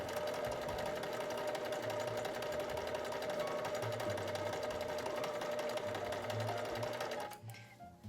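A sewing machine runs steadily as it stitches quilted Christmas stocking pieces together, a close, continuous mechanical whir and rapid needle chatter that stops abruptly near the end.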